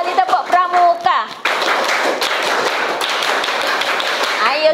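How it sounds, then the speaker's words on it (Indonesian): A classroom of students performs the Indonesian scout clap (tepuk pramuka) together, a dense burst of many hands clapping that starts abruptly after a short spoken lead-in and keeps going steadily to the end. "Ayo, satu kali tepuk pramuka."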